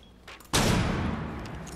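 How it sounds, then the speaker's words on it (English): A flashbang grenade goes off in a video game: after a faint lead-in, one sudden loud, close blast hits, then a broad ringing rush slowly fades. "Flashbang out."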